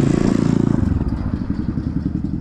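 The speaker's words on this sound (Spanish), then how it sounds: "Vean, ahí viene una moto." A motorcycle on a street passes close by with a loud, rapidly pulsing engine rumble that eases into a rougher, lower drone as it moves on.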